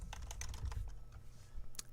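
Fast, steady typing on a computer keyboard, close and clear, with the light key clicks running throughout and no talk.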